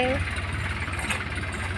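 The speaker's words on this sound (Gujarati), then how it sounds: "હવે ટ્રેક્ટર જાય છે એના ઘરે" A tractor engine runs with a steady low rumble after a peanut harvest on a farm, continuous and fairly close, with voices talking over it.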